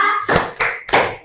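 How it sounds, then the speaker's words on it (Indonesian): A small group of students in a classroom claps in three short, sharp bursts with brief pauses between, close and fairly loud. "beri tepuk tangan buat kelompok 2"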